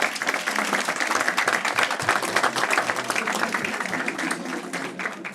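An audience at a talk on positive influence applauds training managers representing their schools, a sustained, even wash of clapping from a large crowd, fairly loud and unbroken.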